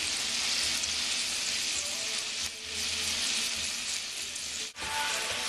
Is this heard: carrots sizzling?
yes